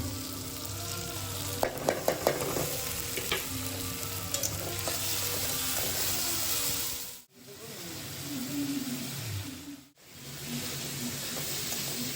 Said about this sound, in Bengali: টমেটোটা মোটামুটি ভাজা হয়ে গেছে। এবার আমি মশলা দিয়ে দেবো এর মধ্যে